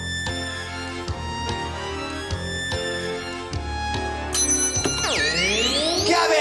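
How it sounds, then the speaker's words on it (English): Game show bell from the 1994 Family Catchphrase, heard as a series of bright struck chimes, then a ringing bell with sweeping tones over loud music in the studio. "Wait for the bell."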